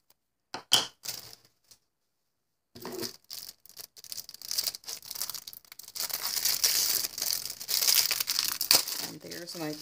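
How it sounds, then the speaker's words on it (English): Plastic packaging around a 10mm craft block is torn and crinkled by hand, first a few sharp rustles, then a pause, then sustained close crackling and ripping. "I guess I'll just rip this open."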